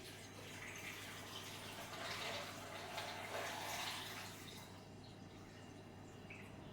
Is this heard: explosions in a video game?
no